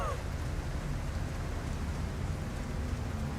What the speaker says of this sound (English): Odd to be in a place without atmosphere and then have all of this water raining down.